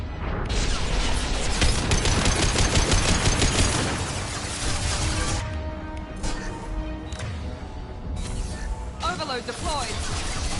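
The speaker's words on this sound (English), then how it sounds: "Taking heavy fire." Heavy, sustained automatic gunfire and crashing impacts from a PS4 shooter game, dense and loud throughout, with rapid bursts overlapping and a voice talking over the barrage.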